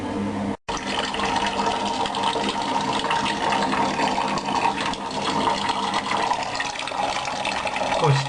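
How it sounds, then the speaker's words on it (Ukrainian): Water drains steadily from an electric water heater tank in a constant gushing flow, close by, with a brief dropout near the start and a gurgle at the end. "Злили ми воду"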